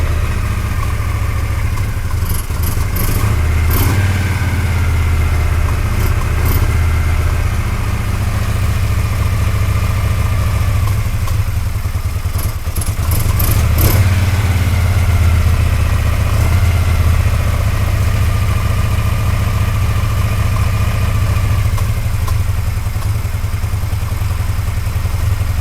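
A 1980 Harley-Davidson FLT Shovelhead motorcycle engine runs steadily at idle, close and loud, with a deep loping low-end rumble and mechanical clatter throughout, and no talking.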